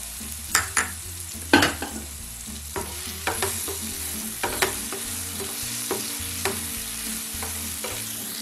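Capsicum sautéing with softened onions in a pan, a soft continuous sizzle broken by repeated sharp scrapes and clinks of a stirring spoon at an irregular rhythm, close up with no talking.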